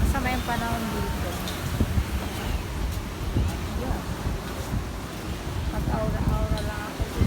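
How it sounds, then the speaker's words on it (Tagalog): Strong gusty wind buffets the microphone on Dapitan beach over a constant roar of rough surf, with someone talking intermittently. "kung naririnig niyo sobra yung hangin. Ang lakas."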